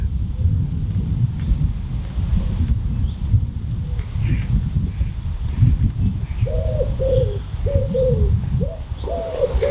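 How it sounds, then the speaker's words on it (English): A wood pigeon coos overhead in woodland beside a carp fishing lake, a run of soft hooting phrases in the second half over a steady low rumble of wind. "Got a wood pigeon above me, hooting away."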